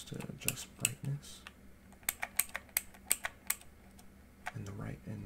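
Typing on a colorful computer keyboard: a run of crisp, close key clicks in uneven bursts, with a quieter pause midway and a soft low thump near the end.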